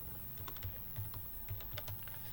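Rapid, uneven keystrokes on a computer keyboard as a board name is typed in, a short close burst of clicks with no talking.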